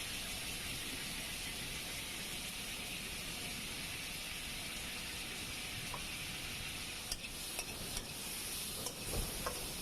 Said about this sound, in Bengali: আমার মশলা কষানো হয়ে গেছে এখন আমি চিংড়ি মাছটা দিয়ে দিচ্ছি